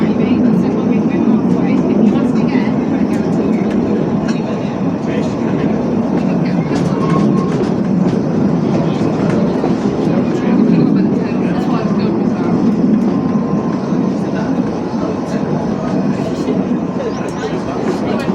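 A zoo train at Whipsnade Zoo rumbles steadily along its track with faint clicking and clacking, a continuous low drone under a voice talking over a speaker.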